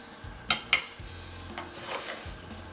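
Metal tongs clink twice against a small bowl while tossing keto Reuben slaw, two sharp close clicks followed by soft scraping and shuffling of cabbage.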